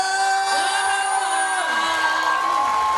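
A crowd at a Topeng Banjet theatre show from Karawang cheers and whoops, with sustained tonal voices and shouts over a steady wash of noise, loud and continuous throughout.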